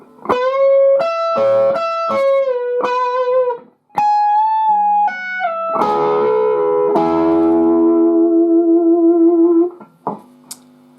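Electric guitar solo, played loud with distortion: quick runs of bright sustained notes, a short break, then a dense chordal passage ringing out before stopping, no talk.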